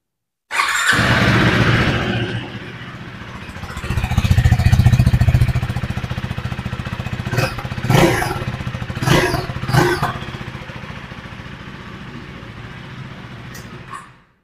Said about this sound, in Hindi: करते हैं बाइक को स्टार्ट और सुनते हैं इसका साउंड।